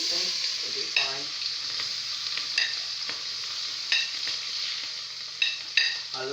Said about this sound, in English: I love the smell of frying onions.